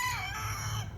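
A rooster crows at a farm with goats as rain approaches, a single drawn-out call heard from a distance over low background rumble.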